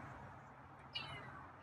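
A single short meow from a feral cat rises briefly over a quiet, hissy background, fairly faint and close by.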